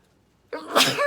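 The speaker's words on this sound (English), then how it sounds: "I think I'm going to sneeze." A single sharp sneeze bursts out close up after a moment of silence, loud and breathy.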